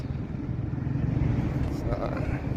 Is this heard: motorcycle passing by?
yes